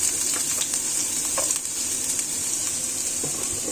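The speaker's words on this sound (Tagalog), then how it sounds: "fry muna natin yung ating garlic and ginger" Garlic and ginger frying together in hot oil for a pork liver and clam dish, a steady close crackling sizzle with scattered pops throughout, no voices.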